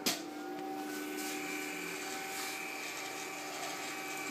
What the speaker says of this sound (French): Donc on va l'allumer, on va faire un reset.